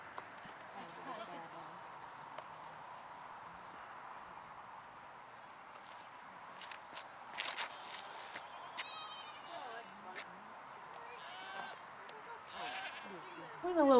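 Goats bleating now and then on a hillside disc golf course during a women's tournament round, faint and mid-distance, with a few higher calls toward the end, beneath steady outdoor background and occasional talk.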